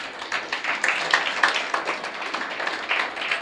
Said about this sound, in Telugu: చప్పట్లు కొట్టాలి అందరూ ఒకసారి